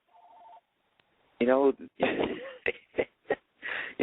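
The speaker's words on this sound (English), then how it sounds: "Who's ringing me? Oh, Jesus Christ, this is my home phone." A home telephone gives one short electronic ring, then stops, followed by someone talking in bursts.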